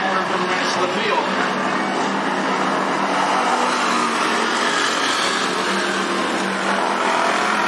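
Race cars roar continuously around the track at Cottage Grove Speedway, a dense, steady engine drone heard from the grandstand area while an announcer talks over it.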